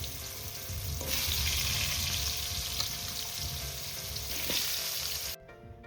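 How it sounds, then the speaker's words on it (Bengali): Pumpkin pieces fry in hot oil with a steady, dense sizzle that swells louder after the first second, then stops abruptly near the end, leaving quiet. "এবার আমি সবার প্রথমে কুমড়োগুলোকে ভেজে নেব।"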